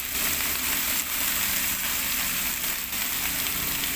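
Vegetables for adobong gulay with alugbati fry in a pan, a steady close broadband sizzle that holds evenly throughout with small dips in intensity and no voices.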